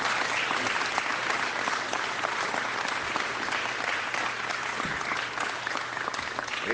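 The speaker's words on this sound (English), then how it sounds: "Let's give them a big round of applause" At a Conservative political announcement in British Columbia, a crowd applauds steadily, a thick, even roar of clapping that stays loud and constant throughout, with a low hum underneath.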